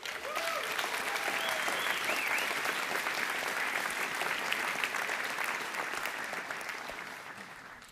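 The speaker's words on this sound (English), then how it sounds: "big round of applause" Steady applause from the Solana community audience at a crypto conference, a dense wash of many hands clapping at moderate distance, with some faint voices and tones in the first second, tapering slightly toward the end.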